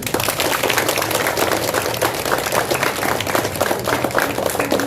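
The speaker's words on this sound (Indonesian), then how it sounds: "Tepuk tangan." Audience applause at a primary school celebration in Sumedang honoring a student goalkeeper and medal winner, dense steady clapping filling the whole stretch at close range.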